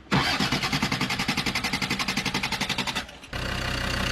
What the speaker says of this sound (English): It's a diesel, it's gonna take a little while to start.